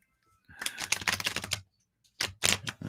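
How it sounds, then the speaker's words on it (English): A deck of cards being shuffled by hand, two close bursts of rapid riffling clicks separated by a short pause, loud and alone. "I'm going to shuffle up 3 times for you."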